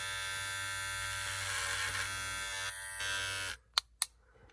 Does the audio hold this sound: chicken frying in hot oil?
no